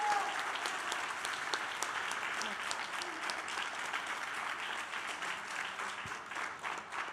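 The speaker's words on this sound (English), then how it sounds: "one final round of applause for all our musicians" Audience applause for the musicians at the close of a classical concert, an even, continuous wash of clapping from a roomful of people, heard from some distance and fairly quiet.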